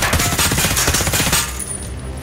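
Sustained machine gun suppressing fire from a 100-round magazine in a video game, a loud, dense rapid burst that runs nonstop for over a second before cutting off, leaving a fading ring.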